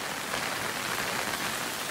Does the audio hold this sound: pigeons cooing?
no